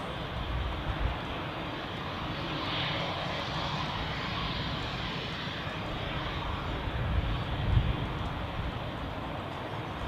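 A short-haul airliner at Zurich Airport passes with a broad, steady roar heard from a distance, swelling slightly and then easing.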